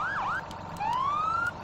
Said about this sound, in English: Now, it does have some pretty epic sirens, which is pretty cool.